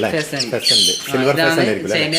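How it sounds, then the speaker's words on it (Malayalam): An ornamental pheasant in a bird enclosure gives harsh, repeated squawks at close range, mixed with a human voice talking over it. "ഇത് ഫെസന്റ്"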